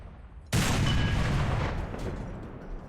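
An SU-100P self-propelled gun firing a shell in War Thunder, one sudden loud boom after a quiet start, trailing into a long rumbling decay.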